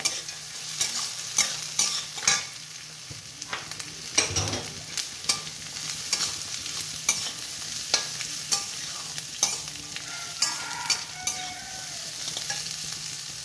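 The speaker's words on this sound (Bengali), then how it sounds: "কাজুটাও ভাজা ভাজা হয়ে যাবে।" Cashews and capsicum fry in a pan for oats upma, a constant close sizzle punctuated by regular spatula clacks and scrapes as the pieces are stirred, with no voices.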